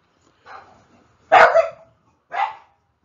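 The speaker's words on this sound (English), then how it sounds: "That's my puppy dog." A puppy barks three times, short sharp yips spaced about a second apart, close and clear, with the middle bark loudest, against otherwise quiet surroundings.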